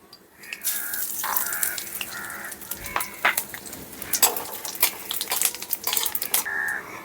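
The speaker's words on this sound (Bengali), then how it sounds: "দুটো শুকনো লঙ্কা সামান্য একটু ভাজা ভাজা করে নিচ্ছি এখন দিয়ে দিচ্ছি পাঁচ ফোড়ন" Dried red chillies and panch phoron frying in oil in a pan while preparing shukto, a steady sizzle broken by repeated clinks and scrapes of a spoon stirring against the metal.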